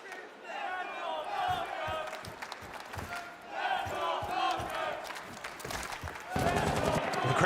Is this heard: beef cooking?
no